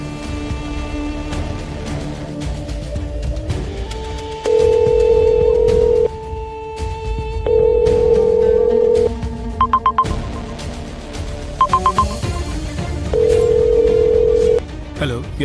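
Telephone ringback tone while calling a number, loud repeated electronic rings with pauses between them, alongside brief dialing beeps and background music.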